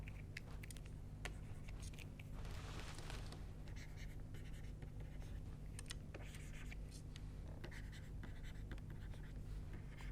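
Marker or chalk scratches and taps on a board during a classroom lecture, a steady run of short strokes and pauses over a constant low background hum, with no talking.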